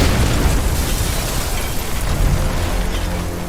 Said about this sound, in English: A violent explosion blew out windows in the workshop and nearly shook the building apart.